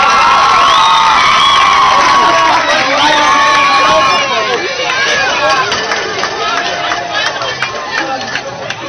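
A class of tenth-grade students at their graduation celebration for their teacher Herr Krüsmann breaks into loud, sustained applause, cheering and whooping, close and dense, with shouting voices and chatter mixed throughout.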